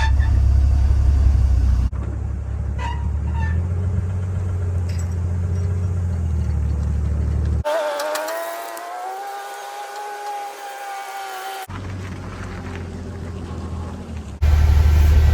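A 1970 International Scout truck engine runs in low gear, a steady low rumble with a gear whine rising and falling in the middle, close by.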